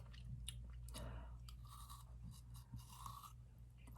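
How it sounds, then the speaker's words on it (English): Quiet, close chewing of a gigantic caramel apple: sticky crunching and wet biting sounds repeating over a steady low hum, with no talk. "But now I'm eating this gigantic caramel apple."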